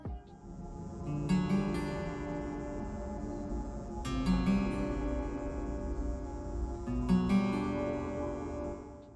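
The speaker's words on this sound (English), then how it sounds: "If you head to the music shop when playing as Jacob and play the guitar, it will sound like this" Jacob strums a guitar inside a music shop in the Redfall video game. A short tune repeats in three similar phrases, each one opening with a bright strummed chord and a loud attack, and nobody talks over it.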